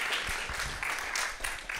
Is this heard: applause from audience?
yes